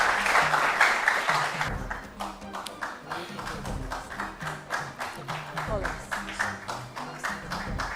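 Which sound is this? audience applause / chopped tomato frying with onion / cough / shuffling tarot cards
audience applause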